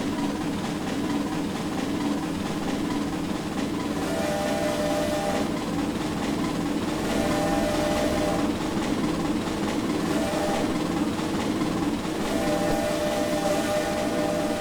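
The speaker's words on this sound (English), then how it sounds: "this locomotive will pick up and run if you really wanted to" An R&N 425 4-6-2 light Pacific steam locomotive runs at about 42 mph in Trainz 2019, giving a steady rolling rumble with faint repeating tonal whistle-like bands over the continuous noise.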